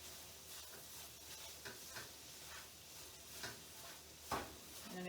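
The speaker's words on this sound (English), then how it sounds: "Stir it a little bit." Kale wilting down in a pan for a kale and Parmesan pasta, stirred with soft scraping and a faint steady sizzle, quiet and close, with a few light clinks along the way.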